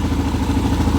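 A Honda XR400R motorcycle engine idling with its stator and wiring exposed, a steady close, loud, even thrumming with a light mechanical clatter and no voice over it.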